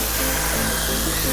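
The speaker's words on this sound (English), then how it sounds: "So this is a heli you would go to your field and fly around and have a blast of fun with in GPS mode." ROBAN EC-135 RC helicopter flying in GPS mode, a continuous close whining buzz of rotors and motor, steady and loud throughout the brief moment.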